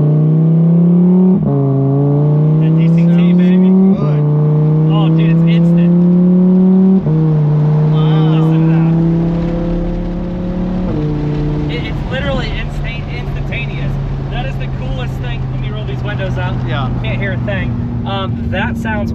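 Audi R8 V10 engine revving repeatedly then pulling away, a loud close engine note with rising and falling rev sweeps, with people talking over it.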